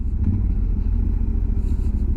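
A line of cars and a few motorcycles idles at a fuel station in El Chaltén, Argentina, giving a steady, close, low engine rumble with no talk.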